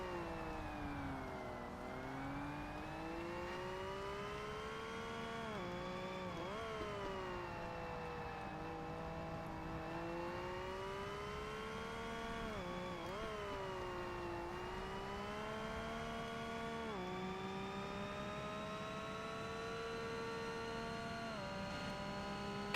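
Car engine in Forza Motorsport, a racing video game, droning steadily and continuously with rising and falling pitch as the car accelerates and shifts through corners, loud and unbroken with no talk over it.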